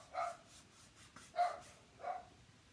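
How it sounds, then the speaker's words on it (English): Dog barking three times, evenly spaced single barks that sound somewhat muffled and moderately distant in a quiet room. "So sorry about my dog."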